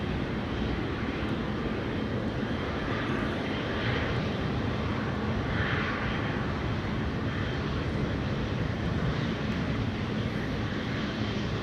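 KLM airliner PH-BVR, a nine-year-old plane on flight 743 to Lima, Peru, at Amsterdam Schiphol during Storm Amy, gives a sustained loud engine roar that swells slightly midway, with no talk over it.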